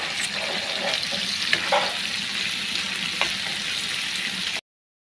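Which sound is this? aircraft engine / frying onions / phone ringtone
frying onions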